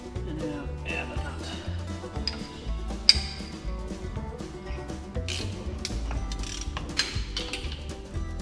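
A socket ratchet backs the hub nut off a heavy-duty closed-knuckle Dana 44 front axle from an International Harvester 4x4, giving steady repeated ratchet clicks and metallic clatter with one sharper knock partway through.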